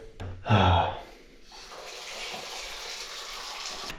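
A short breathy burst near the start, then steady running water from a shower or tap while shampoo is rinsed out of hair, moderately close and continuous.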